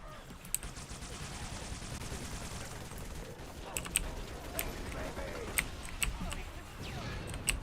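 Turret gunfire in Halo 3: ODST co-op, with sharp irregular shots and bursts cracking over a dense, noisy battle bed throughout.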